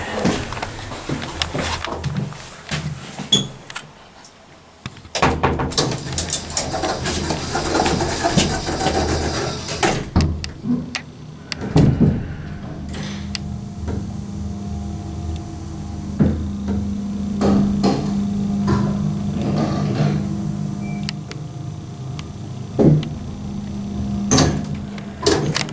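A slow Atlas hydraulic elevator swing door operator in an apartment building clunks and hums steadily, with a sustained motor drone and intermittent knocks and clicks close by.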